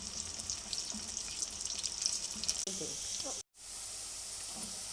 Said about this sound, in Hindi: प्याज को गोल्डन फ्राई करेंगे, गोल्डन ब्राउन कलर